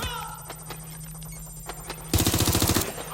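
Rapid automatic gunfire from a combat encounter in Watch Dogs: Legion erupts after a quieter stretch of low ambient hum, a dense, loud burst lasting under a second near the end.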